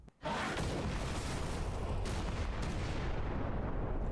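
Cannon blast from the animated show Hazbin Hotel, fired to open the doors of heaven: a sudden loud boom that swells into a dense, sustained roaring rumble lasting several seconds, with no voices over it.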